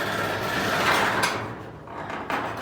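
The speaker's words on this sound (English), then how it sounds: "I'm lifting the door with one hand" A garage door is lifted by hand, giving a rolling, scraping slide of panels along the tracks with a few soft knocks as it moves, close by and with no talk over it.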